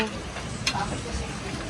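Steady low crackling sizzle of food frying in oil, continuous and close, with a brief sharper clink partway through.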